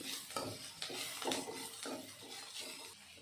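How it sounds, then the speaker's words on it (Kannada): A spoon scrapes and turns carrots frying in oil in a pan for bansi rava uppittu, soft rhythmic stirring strokes with faint sizzle, quiet and close, no talking. "ಎಣ್ಣೆಯಲ್ಲಿ ಚೆನ್ನಾಗಿ ಫ್ರೈ ಮಾಡ್ಕೊಬೇಕು ಈ ರೀತಿ ಮಧ್ಯೆ ಮಧ್ಯೆ ತಿರುಗಿಸ್ಕೊಂಡು ತಿರುಗಿಸ್ಕೊಂಡು"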